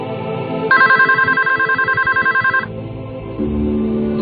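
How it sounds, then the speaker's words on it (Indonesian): A telephone rings loudly and steadily in a rapid electronic trill, holding for about two seconds before the tone shifts and fades into a lower hum. "telepon itu berdering lagi."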